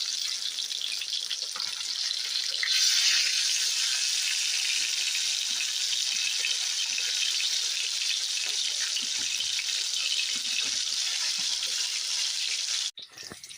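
Fish fillets frying in hot oil in a pan give a steady, close, loud sizzle with a bright hiss that holds evenly throughout and cuts off abruptly near the end.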